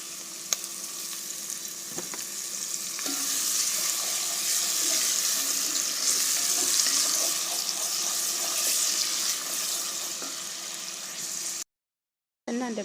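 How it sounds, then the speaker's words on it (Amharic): Onions frying in oil make a continuous bright sizzle, close and steady with faint stirring clatter, swelling slightly midway before cutting to silence near the end; nobody speaks. "እንደምታዩት ያው እዚህ ጋር ሽንኩርቴና ዘይቴ እየጠበስኩኝ ነው ማለት ነው"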